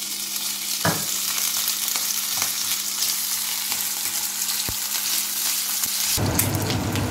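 Bacon sizzles steadily in oil in a pan with a bright, continuous crackle and a few stirring knocks, then the frying jumps louder and more intense toward the end.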